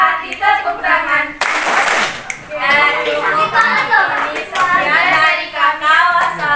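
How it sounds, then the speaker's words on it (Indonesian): Children clap their hands in rhythm along to a sung children's song at a school gathering, bursts of claps mixed with young voices singing close by. "Kalau kau suka hati tepuk tangan."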